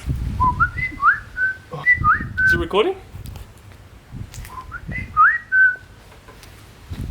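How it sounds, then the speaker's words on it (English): A person whistles short, rising melodic phrases close to the microphone, with pauses between them and people talking in between. "Why do you think I'm whistling?"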